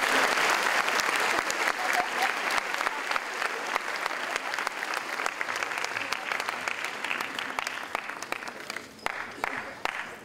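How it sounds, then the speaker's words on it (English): Sustained applause from an audience at a senior awards night for students, a continuous dense patter of many clapping hands, fairly steady with a slight dip near the end. "Let's give them a round of applause."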